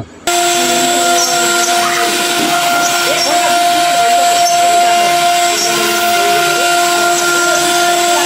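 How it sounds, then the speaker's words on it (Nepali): A homemade wood-carving machine in Jhapa cuts designs into wood with a loud, steady motorized whine holding a constant pitch and faint grinding beneath, with a voice speaking over it. "यस मेसिनले काठका सामग्रीमा कलात्मक डिजाइनहरू कुद्न सक्षम छ"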